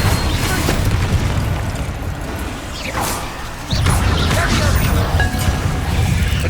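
A Confringo spell explosion in the video game Hogwarts Legacy, with booming blasts rising over a continuous rumble of game combat noise, one strong burst hitting near the middle.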